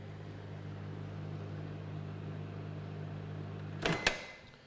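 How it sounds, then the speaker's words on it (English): A microwave oven hums steadily while softening butter and chocolate, its low drone running evenly until it stops with a couple of sharp clicks and door noises at the end. "so just pop that in the microwave"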